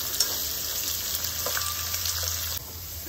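Onions fry in a pan for a Rayalaseema gutti vankaya curry, a steady close hiss and sizzle with faint stirring scrapes.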